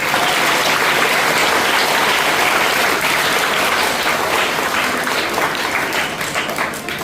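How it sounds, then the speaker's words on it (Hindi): Loud, sustained applause from a crowd at a school Independence Day celebration in India, continuous throughout and fading slightly at the end. "तो आप स्कूल वाले मदर के लिए भी जोरदार तालियां बजा सकते हो।"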